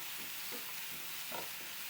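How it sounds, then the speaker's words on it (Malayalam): A sprouted green gram salad with peanuts is stirred in a warm pan, making faint, soft scraping and rustling sounds over low background noise. "എന്നിട്ട് നല്ലോണം നമ്മൾ മിക്സ് ചെയ്ത് കൊടുക്കുക."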